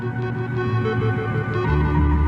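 Futuristic electronic music, a dense drone of sustained layered tones with a thick low hum that swells slightly toward the end, heard alone at moderate loudness.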